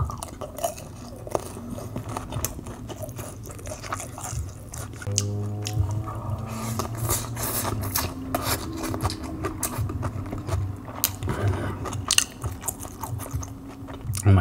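Crunchy chewing of Panda Express chow mein and orange chicken, close and wet with repeated crisp bites and rasping crunches throughout, no talk.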